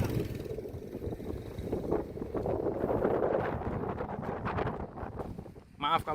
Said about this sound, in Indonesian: di sini anginnya sangat kencang, mungkin mengganggu audio teman-teman